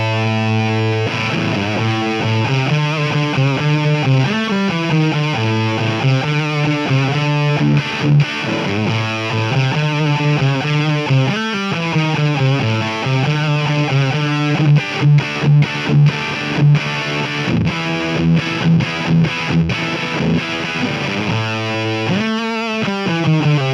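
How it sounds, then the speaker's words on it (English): A JHS FireFly Fuzz guitar pedal with its fuzz knob turned all the way up, heard as loud, continuous saturated guitar chords through an amp, with brief choppy stabs in the second half and no talking. "Let's crank that fuzz all the way up and see what it sounds like."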